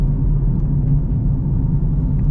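A 750 hp Camaro ZL1 running front skinnies and rear slicks rumbles steadily while driving on back roads, heard from inside as a deep, continuous engine drone with no talking.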